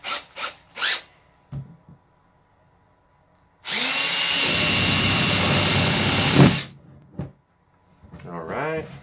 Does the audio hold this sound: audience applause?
no